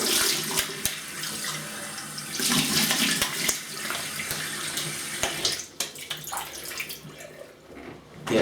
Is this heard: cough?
no